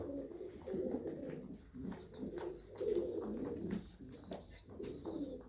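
Village pigeons coo repeatedly in a close, busy flock, with overlapping throaty calls rising and falling in waves and occasional higher chirps, with no talk.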